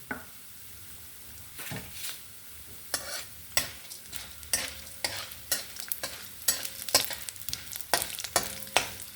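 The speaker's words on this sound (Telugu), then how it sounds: "ఇప్పుడు తిరగమాత వేగించుకుందామండి" Mustard seeds tempering in hot oil in a pan for a ridge gourd curry, crackling and sizzling with a steady series of sharp pops and stirring scrapes, close and moderately loud with no talking.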